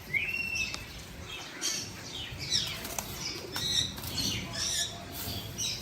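Pigeons in a home loft, among them a Cheetah-line bird, flap their wings in several quick bursts with scattered squawks and chirps, fairly close and moderately loud.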